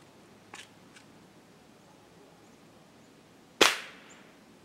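A single sharp gunshot cracks out in the woods while hunting gray squirrels, following faint rustles and ticks, with a brief echoing tail and no talking.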